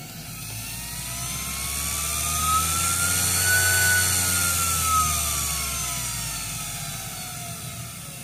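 An upgraded motor on an X2 mini mill spins the shaft at low RPM, its tonal whine swelling in pitch and volume toward the middle, then easing back down over a steady low hum, heard alone up close.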